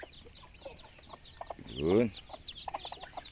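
Newly hatched chicks peep in quick high bursts throughout alongside a hen clucking close by, with one louder, fuller call swelling in the middle; someone says a word briefly.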